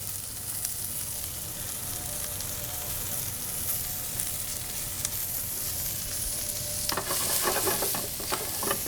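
Sliced shallots frying with Brussels sprouts in a pan give a steady close sizzle that swells into louder crackling and stirring toward the end, with no talk.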